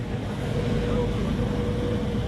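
A Chevrolet overhead-valve six-cylinder idles smoothly at an outdoor old car show, giving a steady low hum with no misfires and faint background noise around it.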